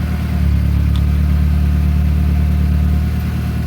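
A 1.8T engine with lightweight billet pulleys runs at a steady idle, a close, loud, continuous low hum and rumble without pauses or talking.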